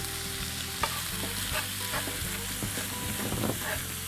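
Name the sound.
sauteing quick cooking brown rice in oil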